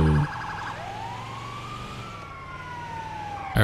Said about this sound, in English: They better respect the siren, man.